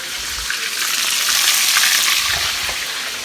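Keto fried chicken cooks on one side in a hot pan, sending up a loud, even, hissing sizzle that holds steady throughout with no talking.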